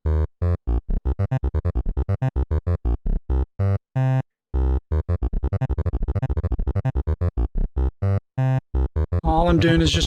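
A Bitwig Grid synthesizer patch with phase-warping modulation plays rapid bursts of buzzy, harmonic-rich tones, whose stuttering rhythm speeds up and slows down with short gaps, ending in a denser, smeared sound.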